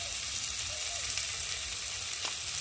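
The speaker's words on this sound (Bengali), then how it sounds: "ভালো করে মশলাটা কষিয়ে নেব" Cumin paste, ginger paste, turmeric, chopped tomato and chili powder frying in oil, giving a constant, dense sizzle that stays even and close, with no talking over it.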